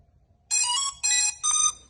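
Three short electronic beeps from a drone's remote control in quick succession, bright and tonal, over a quiet background.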